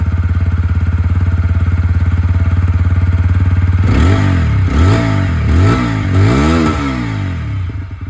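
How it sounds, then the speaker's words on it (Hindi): A TVS Apache 160 4V motorcycle with its bullpup exhaust idles with a steady, throbbing thump, then is revved in several quick blips that rise and fall sharply, loud and close. "अब आप लोग यहाँ पर जो अपाचे की आवाज़ है जो कि बुलपअप एग्जॉस्ट के साथ आती है उसकी"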